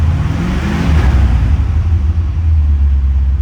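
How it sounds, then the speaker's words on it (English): A fuel-injected 1984 Chevrolet Corvette engine is revved, a loud, close, steady low rumble swelling briefly around the middle and then holding at a strong idle throughout. "And give it a little gas so you can see the tack work."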